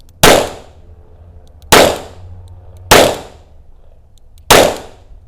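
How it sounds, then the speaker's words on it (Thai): Revolver-style handgun fired four times at a range, each a sharp, loud, close crack with a short decaying tail, spaced about one and a half seconds apart, with no talk. "ยิงได้เลย"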